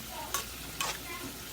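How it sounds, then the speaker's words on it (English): Broccoli stirred into a frying pan while fish fries, with a soft steady sizzle and two quick scraping stir strokes close by. "Stir your broccoli in."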